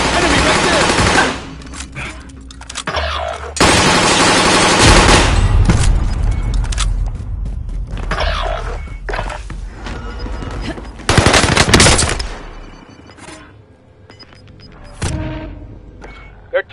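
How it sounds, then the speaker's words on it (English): Bursts of automatic gunfire and heavy shots in a Call of Duty online match, loud and repeated in several long volleys with short gaps between them. "Someone is firing."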